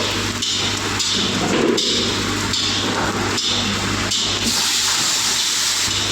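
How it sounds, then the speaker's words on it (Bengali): Water poured into coriander and chilli powder spice mix frying in a pan, giving a steady loud sizzle and hiss with faint clatter, no voices. "এর সাথে একটু জল অ্যাড করব যাতে মশলাটা না লেগে যায় নিচে"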